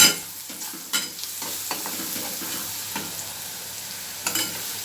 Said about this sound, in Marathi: छान मस्त झाले छान परतले आपला कांदा